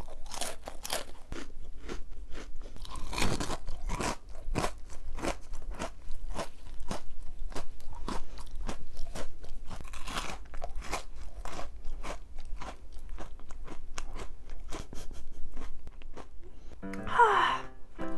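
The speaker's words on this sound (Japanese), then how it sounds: "めちゃくちゃサクサク言うじゃん。" Crisp crunching and chewing of a crunchy Chinese snack shaped like a mud ball, close-up bites and rhythmic crackly chews going on steadily, with a faint breath or vocal sound near the end.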